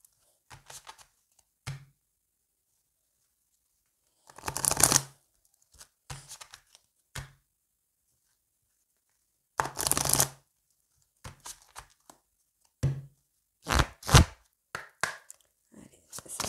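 Lady Lenormand oracle cards shuffled close up in short, scattered riffling bursts separated by silent pauses, with several quick flurries toward the end and no talking.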